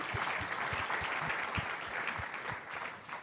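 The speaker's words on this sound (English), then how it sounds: "So a round of applause again for face-to-face events" A round of applause at a business luncheon, a steady crowd clapping at moderate distance with a few sharper nearby claps, fading slightly at the end.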